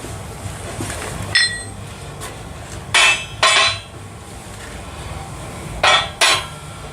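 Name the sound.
steel plates set on shop press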